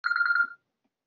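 A mobile phone rings during a business talk on Canada–China trade, a bright repeating electronic trill about half a second long that stops abruptly, with no talk over it.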